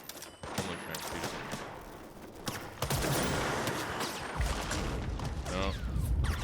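Gunfire in the PC video game Control: bursts of rapid shots and fusillades crackle through a chaotic mix, with heavier sustained firing in the latter half.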